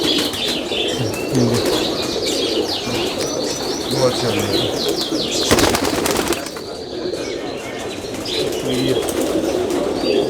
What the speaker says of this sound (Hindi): ये हम लोग के चीने कबूतर हैं।